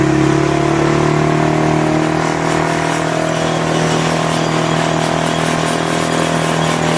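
A small engine with an untuned carburettor roars loudly and steadily, revving rough and uneven with a droning whine, close by.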